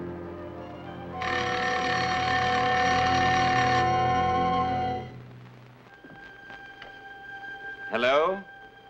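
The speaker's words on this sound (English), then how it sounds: "The phone will ring." An old telephone bell rings loudly and steadily in a 1958 crime film scene, then stops, followed by quiet room tone and a brief rustle.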